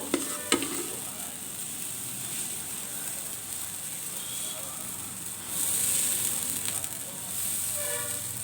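Idli batter poured onto a hot pan to make a dosa gives a steady, close sizzle with a soft hiss that swells brighter partway through, with no talking.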